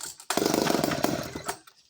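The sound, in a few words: Clinton D55 vintage chainsaw running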